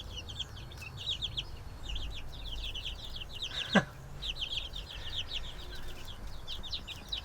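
A crowd of chicks in a backyard chicken coop keeps up a busy chorus of high, rapid peeping throughout, with one brief sweeping thump midway and no talking.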